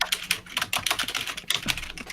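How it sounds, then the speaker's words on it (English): Rapid, uneven typing on a computer keyboard, close and crisp, with clustered keystroke clicks and short pauses between bursts, no voices over it. "that you can hear my typing"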